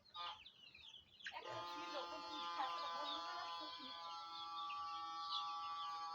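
Hens clucking and cackling in a continuous chorus, several birds calling over one another at moderate distance, with a brief quieter stretch at the start.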